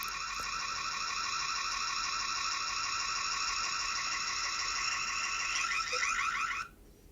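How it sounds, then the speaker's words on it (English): An electronic alarm sounds loud and steady with a rapid warbling pulse for about six and a half seconds, then cuts off abruptly, leaving quiet room noise. "Oh, the alarm."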